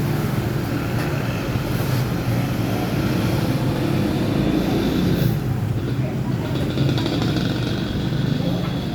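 A Suzuki Shogun 125 motorcycle engine runs continuously at a steady idle, loud and close, with a dense low rumble throughout and a voice talking over it.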